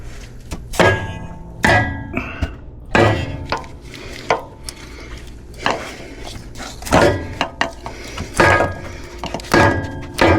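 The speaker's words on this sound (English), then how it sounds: "So a hammer didn't do near as good as I was hoping." Repeated hard thuds of a hammer striking a metal exhaust part while removing the EGR and DOC from an L5P Duramax truck, irregular blows with short pauses, close and loud, some with a metallic ring.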